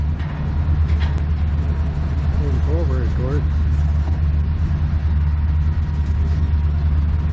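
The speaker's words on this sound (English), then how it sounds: "the rumble that comes from those 5 engines all running together" Five locomotive engines running together on a cold morning give a deep, loud, continuous rumble, with someone talking briefly over the steady low drone.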